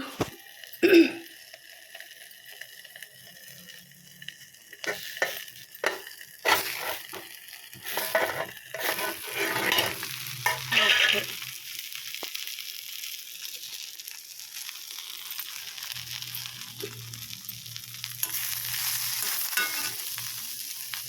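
Tamarind leaves deep frying in a pan of oil, a steady sizzle with intermittent stirring and scraping clatter, alone without any talking throughout.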